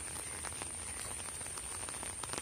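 Rain falling on a buffalo farm in Kerala makes a faint, steady patter of drops against surfaces, with a thin high hiss running continuously underneath.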